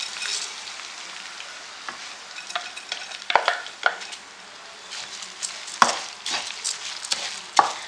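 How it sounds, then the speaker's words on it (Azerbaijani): Rice frying with onions in oil in a pot gives a steady, close sizzle, broken by scattered scrapes and clatters as it is stirred. "Azca soğanla bərabər yağda qızardıram."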